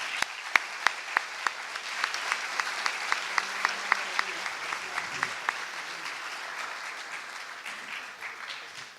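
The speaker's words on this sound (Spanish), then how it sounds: "para quienes pido un fuerte aplauso," Audience applause at a book presentation, starting with a few sharp, distinct claps that quickly swell into a moderate, even round from a modest crowd before thinning and fading out near the end.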